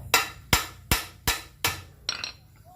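Five sharp metallic hammer blows land at a steady pace, close and clear, followed by a lighter double tap, driving a part into place on a 4WD rear axle differential while fitting a wheel.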